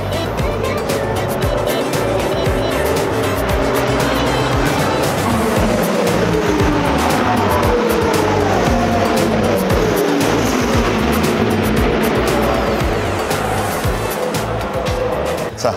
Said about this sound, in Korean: 이 레이스 카들마다 지나갈 때 확실히 다른 소리를 들려주는 것도